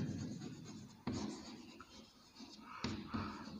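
Chalk or marker strokes on a board during a geometry lesson come as soft scratchy rubs with two sharper taps, faint and close, without talk.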